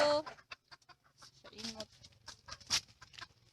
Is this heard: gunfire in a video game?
no